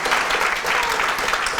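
A theater audience claps continuously in dense, even applause that fills the whole moment, with no single voice standing out.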